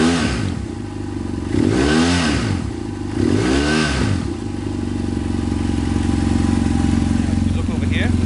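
A BMW F800GS motorcycle with a Rekluse EXP automatic clutch idles close by, steady engine rumble with two swelling blips of revving and a faint clatter near the end.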